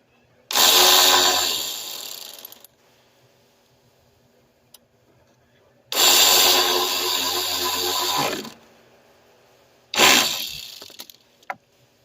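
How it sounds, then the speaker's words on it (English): Power tool with a 10mm socket tightening a bolt during radiator work on a 2003-2005 Lincoln Aviator with a 4.6L V8, three loud close bursts of harsh whirring and rattling separated by quiet gaps, the last one shorter. "We're gonna get up a 10mm and we're gonna tighten that bolt."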